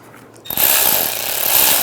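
A power tool spins up on a fastener on a Volkswagen Beetle thermostat housing, 1998-2010 model, starting after half a second of near silence and then running as a loud, steady, buzzing whir up close.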